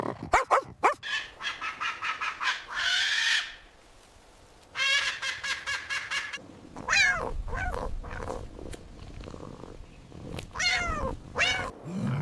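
A human voice imitates a dog barking, giving a series of short, loud, close woof-like calls in quick bursts with brief pauses between them.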